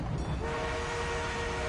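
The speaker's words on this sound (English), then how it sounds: "The enemy is being reinforced with an armored train." An armored train rolls in during a video game battle, its steady rumble and horn-like tone holding continuously and fairly loud throughout.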